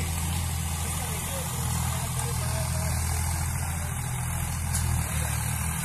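A tractor engine rumbles steadily at a low pitch throughout, a continuous droning hum from some distance in an open field, with a person talking over it the whole time.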